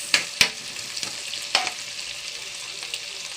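Tomatoes sautéing in a pan, with a steady close sizzle broken by a few sharp scraping stir strokes near the start and middle.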